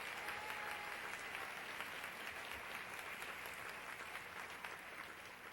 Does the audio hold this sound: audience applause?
yes